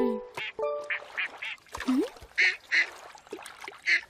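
Cartoon ducks quack in a series of short, bright, nasal calls, several spaced quacks near and loud, mixed with a few other animated squawks and effects by a pond.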